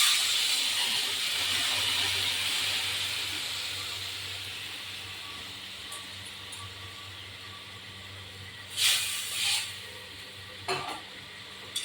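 Water poured into a pan of salted, turmeric-rubbed hilsa fish with green chillies, giving a steady broad hiss and steam sizzle that fades slowly, followed by a few sharper bursts near the end as the pieces are stirred.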